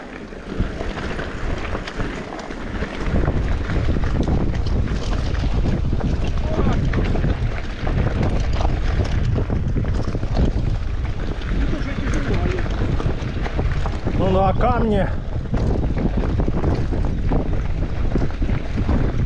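Strong wind roars and buffets the microphone on a bicycle tour in Crimea, steady and loud all the way through, with people talking briefly under it.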